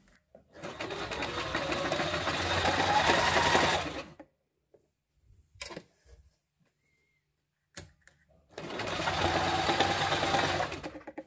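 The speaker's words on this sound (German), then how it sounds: "Mit dieser Maschine könnt ihr langsam nähen und ihr könnt auch leicht in den Ecken drehen, wenn die Nadel drin ist und auch schnell fahren." A Privileg Nova sewing machine stitches in two steady bursts of running separated by a pause with small clicks and handling noises.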